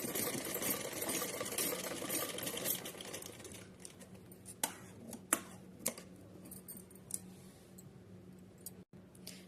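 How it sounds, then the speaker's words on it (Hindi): A sewing machine stitches the side seam of a small Laddu Gopal dress, whirring steadily at first, then giving way to scattered clicks and taps as the stitching stops. "इसी तरीके से हमें दूसरी साइड सिल लेनी है।"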